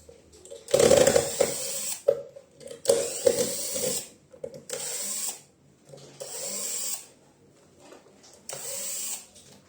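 A handheld electric screwdriver whirs in repeated bursts of a second or so, backing screws out of a cigarette machine's housing near its motor and speed controller, close up with short pauses between.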